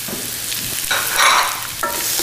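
Apples and minced onion sauté in a hot pan on high heat, a close steady sizzle broken by a couple of stirring scrapes.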